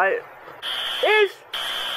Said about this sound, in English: I'm gonna press the alarm button